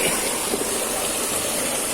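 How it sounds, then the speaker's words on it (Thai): Water gushes and overflows in an outdoor setting beside a fish pond on a farm, a loud, steady rushing wash that fills the whole moment without break. "เอายามดูเสียงน้ำไหลครับน้ำล้นแล้วนี่เนาะ"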